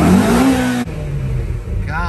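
Shelby GT350 flat-plane crank V8 revving hard, a loud rising bark that cuts off abruptly, followed by a lower rumbling idle and faint voice near the end.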